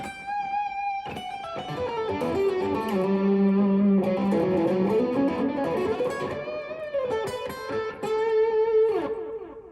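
Electric guitar played through a Strymon El Capistan tape-echo delay pedal with distortion engaged, sustained overdriven notes and chords with smeared, repeating echoes building into a thick wash, loud and close with no talking.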